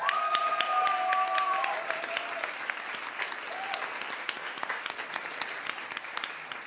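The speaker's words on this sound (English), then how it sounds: "let's also give a round of applause to our amazing producer of this show" An event audience gives a round of applause for the show's producer: steady, moderately distant clapping that continues throughout, with a brief tone near the start.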